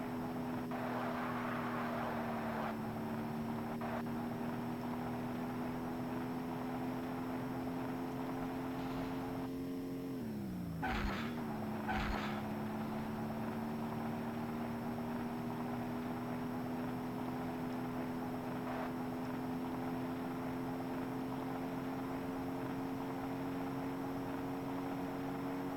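Cars racing in the video game Interstate '76: Nitro Pack, a steady droning engine hum with a brief dip and pitch swoop midway, continuous and moderately distant.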